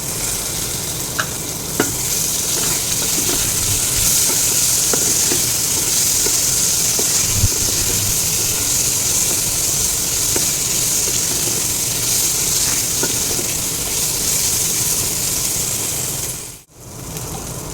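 Cashews and raisins frying in a pan, a loud continuous sizzle with occasional light clicks of nuts and spoon against the pan, steady throughout before briefly cutting out near the end.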